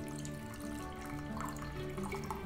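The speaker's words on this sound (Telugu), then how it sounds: "ఈ గిన్నెలో సుమారు ఒక కప్పు వాటర్ను వేసుకోవాలండి" Water pours steadily into a bowl, about a cup's worth, a soft continuous trickle heard alone at low level.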